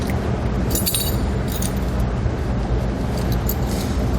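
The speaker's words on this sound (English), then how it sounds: "We'll try and get the chain on the front face of our tire as even as we can." Titan alloy snow tire chains clink and jangle in bright metallic bursts while being fitted onto the front tire of a 2019 Hyundai Santa Fe, the rattles close and intermittent over a steady low outdoor rumble.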